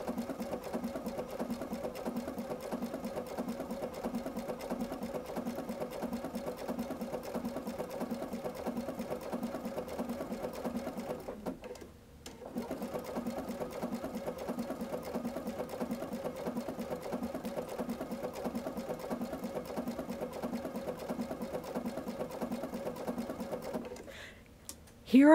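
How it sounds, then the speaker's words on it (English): Domestic sewing machine stitching a blanket stitch applique along a fabric stem, running in steady rhythmic bursts with a brief pause near the middle and a short stop at the end, loud and close. "So I'm going to let my machine go forward two stitches, then back, and then forward again."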